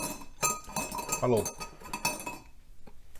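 A small metal strainer is set down on top of a Pyrex glass measuring cup in a home kitchen, giving a few light clinks and taps of metal on glass close by, with speech over it.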